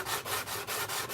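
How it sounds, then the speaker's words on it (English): A file or sanding stick rubbed across the flat edge of a helmet, a soft, faint, rhythmic scraping of about five even back-and-forth strokes in quick succession, with no voices. "what I do is I put the file or the sanding stick on the flat edge"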